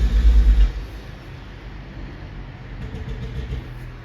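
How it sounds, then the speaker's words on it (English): A dump truck rumbles past outdoors, a low, steady engine drone that stays at moderate distance for several seconds after a brief louder thump at the start. "I think there's a dump truck going by."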